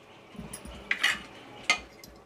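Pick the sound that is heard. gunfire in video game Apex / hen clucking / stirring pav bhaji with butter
stirring pav bhaji with butter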